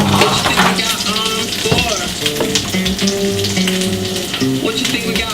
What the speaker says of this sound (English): Gonna throw the falafel balls in.